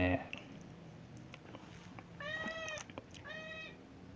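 A cat meows twice, clear, drawn-out mewing calls that come in the latter half, close and fairly soft, after a moment of a person talking and some small background noises.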